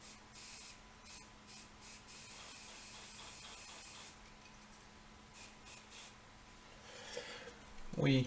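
Glue activator sprayed from a can onto a Messerschmitt Me 262 A-1a model plane: a series of soft, close hissing spray bursts over a faint steady hum, ending in a louder burst.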